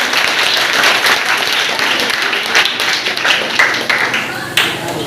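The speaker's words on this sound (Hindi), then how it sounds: "जोरदार ताली उनके लिए।" Loud, sustained applause from a crowd at a block-level school award ceremony and talent competition in Asarganj, Bihar, as a prize winner is honoured, dense clapping heard throughout.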